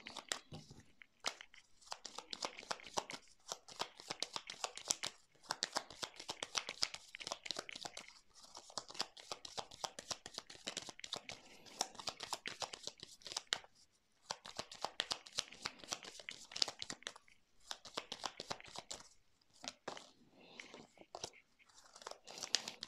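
Tarot cards are shuffled and drawn for a reading. Close, papery riffles and flicking card slaps repeat in quick bursts with short pauses for over twenty seconds, and a faint voice occasionally murmurs.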